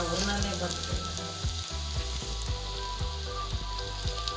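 Ginger and garlic sizzle loudly in hot oil in a pan while cooking chicken mandi, a steady close frying hiss broken by regular soft knocks of stirring.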